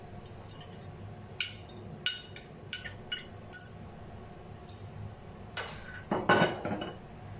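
Beaten eggs mixed into cooled omelette batter with a utensil in a bowl, giving a series of light, irregular clinks and taps against the dish, fairly quiet and with no talk.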